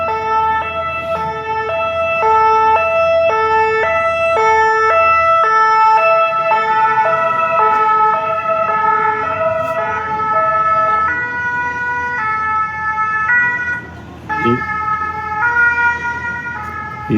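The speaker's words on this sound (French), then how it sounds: "On va laisser passer l'ambulance." An ambulance siren passes on a street, its two-tone wail loud and close and repeating steadily with a slight pitch drop as it goes by, over traffic noise.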